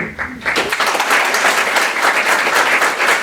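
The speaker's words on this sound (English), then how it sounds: "Round of applause" An audience claps in a dense, even burst of applause that holds from start to finish without dying away.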